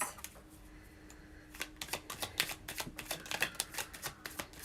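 A deck of cards, likely tarot or oracle cards, is shuffled in a steady flurry of crisp, close riffling clicks that speed up and continue throughout, with no talking.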